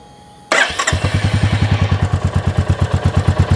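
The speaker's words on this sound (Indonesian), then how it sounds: "Sekarang kita cobain hidupkan dulu ya." A Royal Enfield Meteor 350 motorcycle cranks once with a short whir and catches, then settles straight into a close, loud, steady thumping single-cylinder idle with an even, regular beat and no talking.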